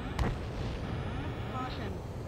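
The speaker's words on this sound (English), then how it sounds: "Missile hit." Missile hit explosion in the jet combat game Ace Combat 7: a single sharp boom at the start fading into a rumbling roar under continuous engine and in-game audio noise.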